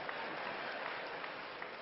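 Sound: applause

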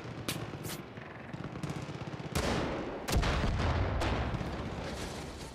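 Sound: gunfire in Far Cry 5 video game

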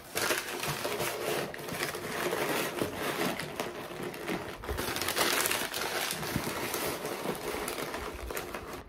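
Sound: crumpling packing paper while packing boxes

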